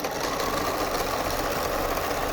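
A sewing machine stitches down the length of an apron with a loud, steady, continuous whirring hum and close needle chatter, with no voices.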